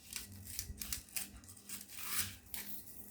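Scissors cut out a fabric pattern for a keyhole yoke blouse with a series of close, quiet snips and rustles in an uneven rhythm.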